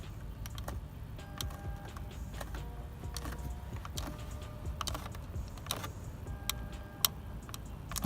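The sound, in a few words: creaking plastic interior door handle in Renault Kangoo 3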